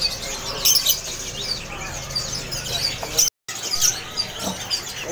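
Sogon birds chirp repeatedly at Pramuka bird market, with quick high tweets and twittering layered over busy market murmur, broken by a brief moment of silence partway through.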